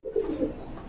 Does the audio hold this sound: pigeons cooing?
yes